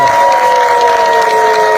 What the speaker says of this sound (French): Applaudissez encore pour ceux qui ont commencé à Atlanta.